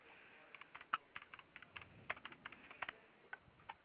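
A 911 dispatcher types on a computer keyboard, a quick, uneven run of soft, close key clicks with small pauses, faint and alone without speech.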